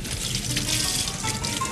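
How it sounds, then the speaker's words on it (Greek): Water runs steadily from a tap as hands are washed in a kitchen between cooking steps, a loud close continuous splash with no talk over it. "Να πλύνω λίγο τα χέρια μου."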